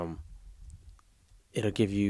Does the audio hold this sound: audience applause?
no